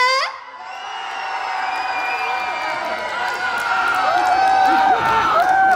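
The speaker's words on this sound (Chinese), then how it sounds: "来，右边的朋友尖叫声" A crowd on the right side of an outdoor concert at Chaotian Temple in Wuri, Taichung, screams and cheers loudly. Many overlapping wavering high voices swell and sustain, growing louder toward the end.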